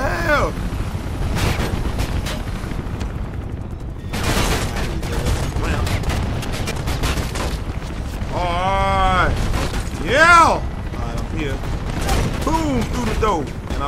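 Scattered gunfire from enemies in the first-person parkour game Mirror's Edge, bursts of shots mixed with game effects and background music, with someone talking over much of it.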